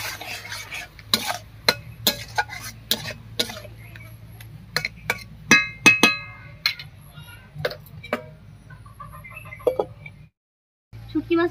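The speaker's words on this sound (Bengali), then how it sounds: "এবারে আরো একটু জল দিয়ে খুব ভালো করে ঢাকা দিয়ে দিয়ে কষিয়ে নেব" Dried fish with salt, turmeric and spices cooks in a pan, making a low, quiet sizzle with sharp, irregular clicks and scrapes of stirring. A brief silent gap comes near the end.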